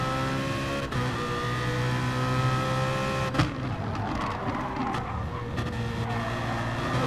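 The FPC BMW GT race car in a sim racing game, its engine droning loudly and steadily with a sharp gear-change blip midway, then rising revs and rough on-board mechanical chatter.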